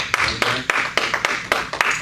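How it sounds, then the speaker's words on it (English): Church congregation clapping in a steady rhythmic beat, sharp hand claps repeating roughly every quarter second, close and moderately loud, with a faint voice underneath. "Give the Lord a big clap offering."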